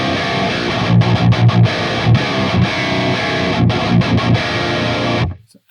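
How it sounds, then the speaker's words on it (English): Heavy metal riffing on an electric guitar through an Audio Assault Hellbeast amp with the kill boost engaged, tight, aggressive chugs and stabs with brief gaps, played loud for several seconds and then cut off. "Lastly, we have the infamous kill button, which acts as a boost in the upper mid frequency"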